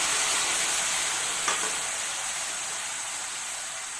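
Chopped onions sautéing with ground coconut in a hot pan for a Tamil elephant yam fry, giving a steady, close sizzling hiss throughout with no voices.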